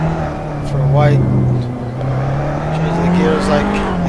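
Formula Abarth race car engine in a racing video game at Monaco, revving loudly and steadily with quick pitch drops and blips as it shifts down through the gears, a continuous close drone.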